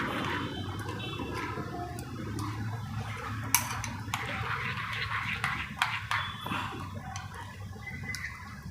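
A spoon repeatedly taps and scrapes a bowl while mixed vegetable raita with salt and chaat masala is stirred together, a steady stream of close clinks and wet mixing sounds without speech.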